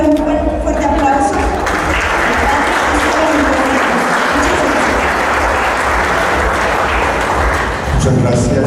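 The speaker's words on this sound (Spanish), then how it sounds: "Vamos a darle un fuerte aplauso." Audience applause at a book presentation in Jalpa de Méndez, a loud sustained burst of clapping from a crowd filling the room for several seconds before tapering off at the end.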